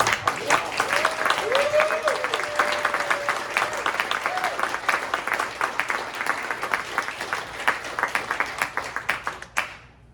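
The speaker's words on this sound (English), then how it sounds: "Let's take a moment to applaud Jeeyon and all the other finalists for their work, creative vision, and leadership in the future of our industry." An audience at an award ceremony applauds the finalists, loud dense clapping that carries steadily for about nine seconds before thinning into scattered claps and cutting off, with a brief voice faint underneath early on.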